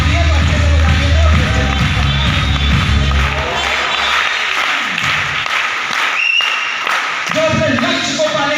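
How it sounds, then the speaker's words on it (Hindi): A large audience at a motivational lecture claps loudly in a dense, sustained burst, with a low rumble and some crowd noise beneath. The clapping thins and fades toward the end, and a voice briefly returns. "ताली बजानी है तो अच्छे से बजानी है"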